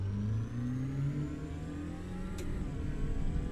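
A VW Polo GTi engine in Euro Truck Simulator 2 holding a steady droning rev with a buzzy exhaust note, pitch sweeping slightly, loud and continuous with no talk.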